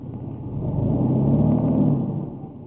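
Ford F-150 with a bad transmission, engine stalling when shifted into gear: a close, low rumbling idle sags and bogs under load, a continuous heavy drone that weakens toward the end.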